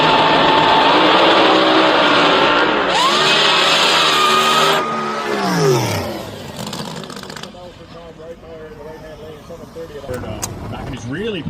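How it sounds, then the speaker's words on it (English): A drag racer's nitrous oxide system purges on a 959 cubic inch engine, releasing a loud, sustained hiss for several seconds that tails off into quieter track noise. "He's really purging the nitrous system."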